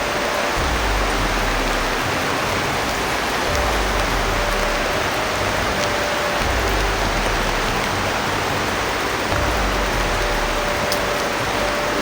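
Very heavy rain pours down steadily, a loud, dense, unbroken roar of water close by, with a faint low thumping recurring underneath.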